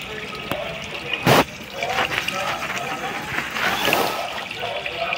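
Water is filled into a Holi pichkari water gun with splashing, trickling and gurgling. A sharp burst of pouring comes early and is followed by steadier running and dripping up close.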